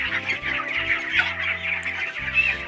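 Chickens on a poultry farm cluck close by and continuously, several birds overlapping in a busy, chattering chorus of short calls with no human voices.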